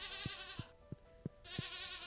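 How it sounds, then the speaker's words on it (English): Barn animals in the Stardew Valley video game bleat in a soft, steady series of about five evenly spaced calls over a faint layered game background. "All the barn animals."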